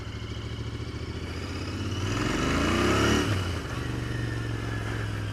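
Royal Enfield Interceptor 650 motorcycle out on a ride: a loud, close, steady engine throb that revs up through the gears toward a peak near the middle before easing back, with no voices.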